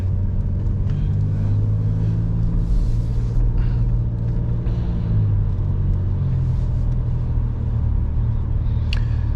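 A car rolls through an intersection after yielding, its engine a steady low rumble with road noise throughout, close and fairly loud, the note easing slightly partway through.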